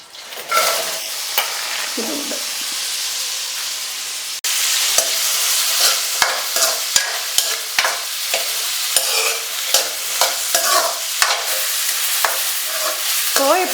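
Onions frying in oil in a pan, a loud continuous sizzle that flares up sharply partway through, with repeated spatula scrapes and taps as they are stirred, and no talking.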